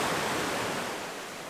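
Ocean waves breaking on a beach in the Lofoten Islands, a loud roaring wash of surf that slowly fades as the swell recedes, with no voices present.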